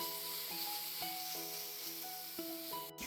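Ginger garlic paste and onions sizzle steadily in hot oil for a duck curry, a close, continuous frying hiss with a few soft stirring knocks.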